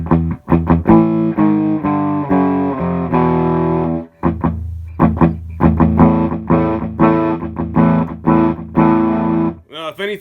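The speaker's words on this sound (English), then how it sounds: "it's too loud, and I'm getting like a lot of speaker distortion" Electric guitar played through a cheap, cleaner-than-expected rig, loud chords and single notes pushing a speaker into heavy distortion, with brief gaps between phrases and a harsh buzzing edge.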